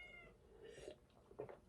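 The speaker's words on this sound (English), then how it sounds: "Fucking cat again." A cat meows faintly in the background, a couple of drawn-out cries with quieter murmurs between them, distant and low in level.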